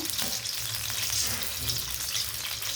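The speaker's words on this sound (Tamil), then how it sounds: "இது கொஞ்சம் நல்லா பொரியணும் இந்த முட்டை" An egg fries in a pan over a low flame, a continuous close sizzle and crackle with light spatter, steady and moderately loud with no speech.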